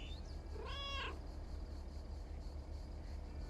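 A cat meows once, a short clear call in the video game Lake, over a steady low background hum with no talk.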